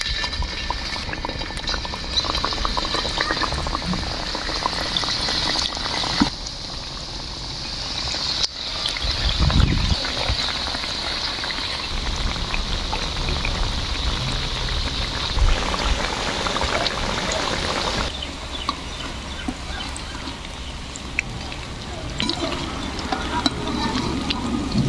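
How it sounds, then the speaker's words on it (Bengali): Singaras deep-frying in hot oil, a dense, steady bubbling roar that runs unbroken throughout, loud and close, with slight shifts in intensity and a brief louder burst near the middle. "আমার তেল এখন গরম হয়ে গেলে দিয়ে দিব এখন সিংড়াগুলা।"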